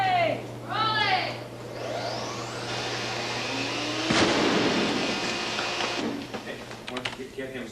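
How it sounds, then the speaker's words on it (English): A single sharp blast from an exploding miniature model ship bursts out partway through, its roar fading over a few seconds, with voices and a steady low hum around it. "A second breakaway model is rigged with even more explosives"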